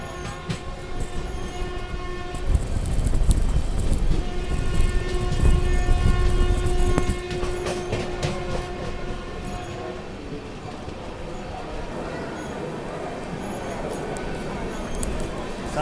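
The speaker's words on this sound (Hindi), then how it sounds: "सामने से कोई ट्रेन एंट्री भी ले रही है" A train pulls into crowded Mathura station, heard from a sleeper-class coach of the Secunderabad Duronto Express. A steady rolling rumble runs under a long sustained horn for most of the first ten seconds, with voices talking throughout.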